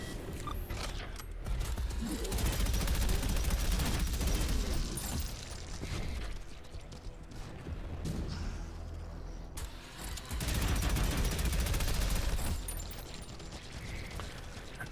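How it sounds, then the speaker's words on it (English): Dense, rapid shotgun fire in the fast retro shooter video game Prodeus, blasts and mechanical clatter piling up in loud rolling bursts over a busy, noisy game backdrop with no voices. "I can just kill everything with this one shotgun."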